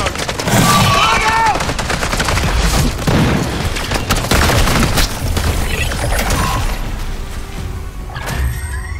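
Grenade explosion and gunfire in the video game Call of Duty MW3: loud, dense machine-gun bursts and booming blasts pound continuously, with shouted voices woven through the chaotic battle noise.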